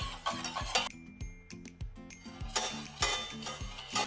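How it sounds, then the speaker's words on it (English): Custard being stirred continuously in a pot over medium heat while it thickens, giving a steady run of soft scraping and clinking strokes of utensil against pot, close and repeated about every half second. "Over medium heat, you want to continuously stir until it thickens up."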